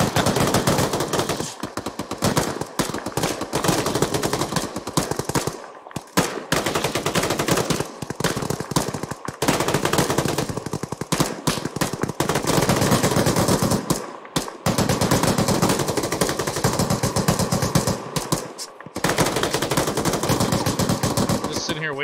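Sustained automatic gunfire and rapid bursts from infantry weapons in the ArmA 3 military shooter, loud and nearly continuous with brief pauses, with some talk in the background.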